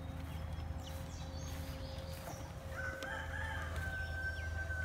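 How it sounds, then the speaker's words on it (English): Meat chickens in an outdoor pen, with a rooster crowing once in the middle distance and scattered fowl calls over a steady low background hum; no one speaks. "I got the meat chickens out."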